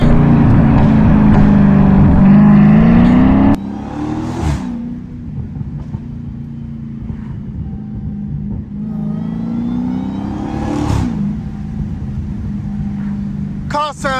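A catless Dodge Hellcat's engine roars loudly under acceleration while driving, then drops to a lower rumbling cruise with a few more surges of revving; someone speaks briefly between the engine swells.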